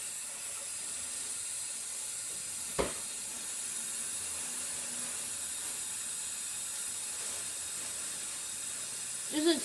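A big water balloon fills with a steady, continuous hiss of rushing water, with faint background noise and a couple of brief knocks.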